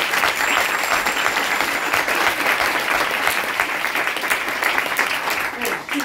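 Sustained, dense applause from an improv theatre audience at a festival fills the whole stretch, loud and steady from start to finish.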